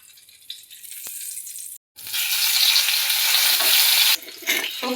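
Ingredients for a fish curry go into a wok of hot oil left from frying pond fish. A quieter sizzle cuts out briefly, then surges into a loud, close, hissing roar that sputters on to the end.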